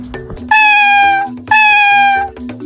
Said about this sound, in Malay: Ini adalah kucing. Mari kita dengar bunyi kucing.